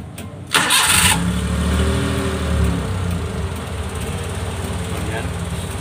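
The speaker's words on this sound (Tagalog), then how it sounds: "So try natin pandarin ng makina guys" A Suzuki Multicab F6A engine cranks briefly, catches and settles into a loud, steady, slightly uneven idle up close after its ignition timing was set without a timing light.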